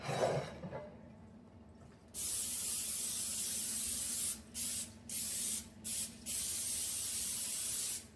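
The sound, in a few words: cooking spray sprayed onto baking pan over sink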